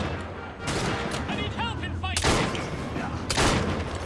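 Gunshots in the video game Assassin's Creed Syndicate, several loud sharp reports in quick bursts over a dense, noisy fight with rumbling background, close and forceful.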